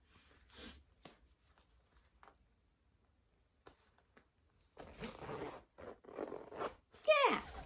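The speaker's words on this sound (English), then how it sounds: "can I get it zipped?" A vest is zipped up with a few scattered rustles followed by a close, clear run of zipper teeth rasping, with a brief voice near the end.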